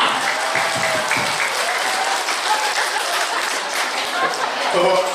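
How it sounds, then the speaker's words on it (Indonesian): Audience applause for the event organizers at a religious lecture gathering, a steady dense wash of clapping from a crowd lasting throughout, with faint voices mixed in. "Tepuk tangan buat panitia yang meriah"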